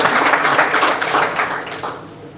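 Banquet guests at a North Texas Islamic council dinner give a short round of applause, dense clapping that fades within a couple of seconds.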